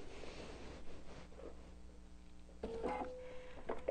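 A sewing machine runs a steady straight stitch with a lengthened stitch setting while quilting a self-binding placemat, giving a continuous mechanical hum that grows louder and busier partway through, with no voices.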